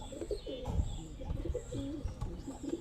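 Domestic pigeons kept by a hobbyist coo in repeated low, throaty rolls, several birds overlapping close by with a few faint chirps mixed in.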